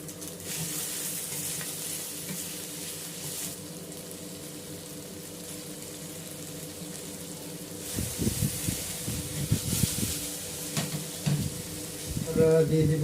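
Chopped potatoes and beans fry in a pan with a moderate, constant sizzle, broken in the second half by clattering stirs and scraping close by.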